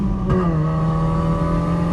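A turbocharged, propane-fuelled Chevrolet Optra engine revs hard, briefly dips at a gear change, then climbs again in a loud, close, steady drone.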